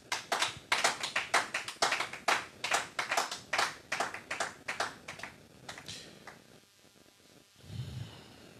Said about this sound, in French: Est-ce que tu peux acclamer très fortement le Seigneur?